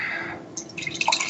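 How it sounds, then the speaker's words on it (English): A lighter-ABV (7.7%) dark, brownish, opaque beer is poured into a glass, giving soft splashing and dripping liquid sounds that grow busier toward the end, close and fairly quiet. "So good pour. That was a really good pour."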